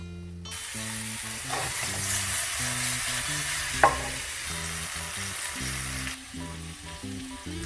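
Cooked wild pork with apple, capsicum and chopped tomato fry in a pan, a steady close sizzle with stirring scrapes and one sharp clack, while tonal music plays under it.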